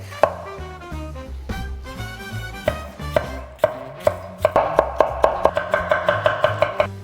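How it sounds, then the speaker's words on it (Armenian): Potatoes chopped with a knife on a cutting board for an Armenian-style branzino dish: steady close knocks that speed up into a fast, even run of chops. "Հիմա կտրատում ենք կարտոշկա"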